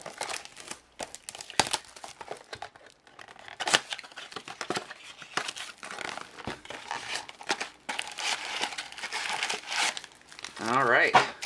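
Crinkly plastic wrapper being torn and crumpled around a 2015 Donruss football card blaster box, a steady run of close, dry crackling and ripping bursts with a brief louder rustle near the end.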